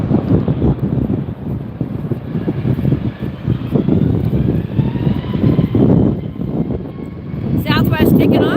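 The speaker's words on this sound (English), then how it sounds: "Southwest taking off." Southwest airliner taking off at LAX airport, a loud sustained jet engine roar with wind rumble on the microphone, growing and shifting in pitch as the aircraft climbs away.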